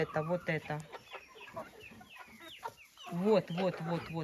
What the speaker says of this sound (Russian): Вот так вот содержатся у меня цыплята.